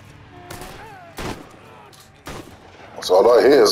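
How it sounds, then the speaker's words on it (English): Gunfire in the video game Mafia III, several loud sharp shots spaced apart, then a heavier burst of firing at the end, with a voice talking in between. "That's all I hear is gunshots"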